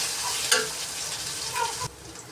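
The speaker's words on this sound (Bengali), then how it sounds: "আর একটু ভালোভাবে ভেজে নিব তেলে মশলাটা" Ground cumin spice paste sizzles and fries in hot oil while being stirred, with a steady hiss broken by a few sharp crackles and spatters before it abruptly quiets.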